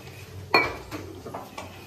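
A tea cup set down among dishes in a home kitchen, giving one sharp ceramic clink followed by a few softer knocks of crockery, close and alone.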